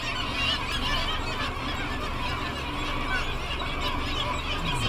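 Black-legged Kittiwakes calling at a seabird colony on Kachemak Bay, a dense continuous chorus of nasal, honking cries at moderate distance, with no clear talking.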